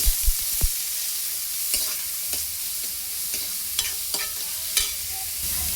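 Chopped large onion stirred in a hot pan for an okra fry, with scattered scraping stir strokes and light sizzle throughout, a few sharper clinks of the spoon against the pan.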